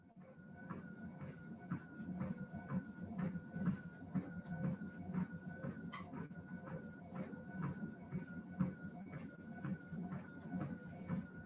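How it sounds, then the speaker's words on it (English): A home treadmill runs with a steady, rhythmic mechanical thumping and whirring at a quick even pace, fairly faint and continuous throughout, with no talk. "You're hearing my treadmill."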